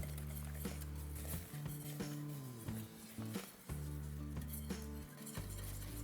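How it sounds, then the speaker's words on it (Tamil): Millet flour is beaten into porridge in a pot over the stove, giving quick metallic clinks and scraping strokes of a utensil against the pot, with steady background music playing underneath. "இந்த கம்பு மாவை இதில் ஆட் பண்ணி லம்ஸ் ஃபார்ம் ஆகாத மாதிரி இது மாதிரி பீட் பண்ணி விட்டுருங்க"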